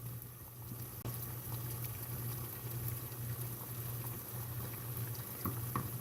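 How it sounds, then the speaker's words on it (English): Water in a pan starts to boil while a steel tool blade is heated in it, making a steady low bubbling and hiss with faint pops and no talking. "So right now we're starting to get a boil."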